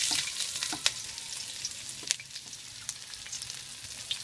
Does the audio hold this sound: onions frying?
yes